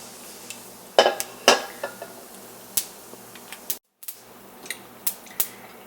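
Mustard seeds and dried chillies spluttering in hot oil, giving scattered sharp pops and crackles at irregular intervals, close and moderately loud with a brief dropout.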